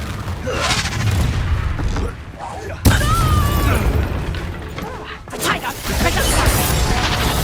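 Confringo fire-blast spell in Hogwarts Legacy, booming explosive impacts with crashing bursts over ongoing combat noise, one sharp hit standing out, with a voice speaking at times.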